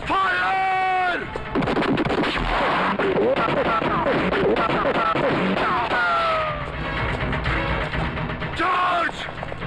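Gunfire and artillery crash through a Hindi movie battle scene, with loud bursts and blasts under shouting voices and a swelling music score, dense and continuous throughout.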